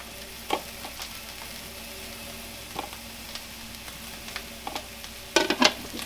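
Ground beef fries quietly in a pan over a faint continuous sizzle, with a few soft utensil clinks and scrapes and a louder stir near the end.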